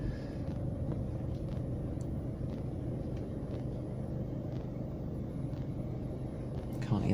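A car engine runs as the car pulls away from a zebra crossing near a roundabout, a steady low rumble that carries on evenly throughout.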